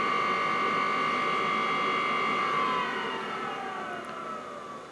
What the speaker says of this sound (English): Yes, the pump is still pumping.